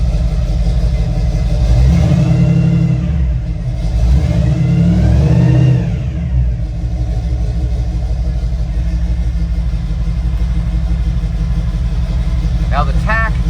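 A 1966 Ford F100 engine running after a cold start: a loud, close, deep rumble that swells in two revs early on and then settles into a steady idle, with a voice talking briefly over it.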